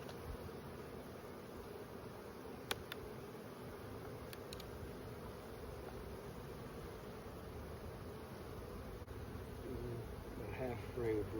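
Honeybees from a large, crowded colony buzz steadily around an open hive during a frame inspection, a dense close drone that stays constant throughout with faint clicks.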